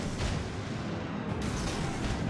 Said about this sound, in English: Cleveland is shooting at you